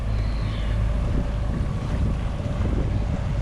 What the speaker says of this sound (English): Try to stay out of the wind so it's not so noisy